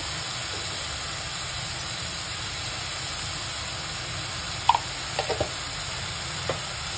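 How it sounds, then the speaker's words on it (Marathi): Turmeric, asafoetida and salt sizzle in oil in a frying pan while cooking a spicy dal mirchi. A steady, soft hiss continues throughout, broken by a few small pops and clicks partway through. "हळद टाकायची आणि हिंग टाकायचं, मीठ टाकायचं,"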